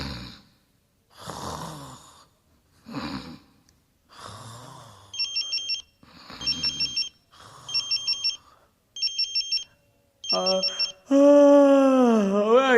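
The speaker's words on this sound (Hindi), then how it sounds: "इतनी रात के किसका फोन है?" A phone rings in repeated short electronic bursts, alternating with gasps and heavy breathing, then a loud wavering tone at the end.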